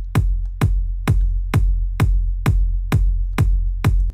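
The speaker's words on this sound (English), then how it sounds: "so you get that big bass wall sound like this." Electronic kick drum with raised sustain, set up for a Dirty Dutch or electro house drop, thumps nine times at a steady tempo, each hit blooming into a loud, continuous wall of low bass with no talking.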